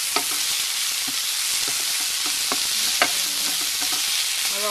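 Kale and mixed vegetables frying in soybean oil in a pan, a steady loud sizzle with faint scraping stirs and small pops, no voices.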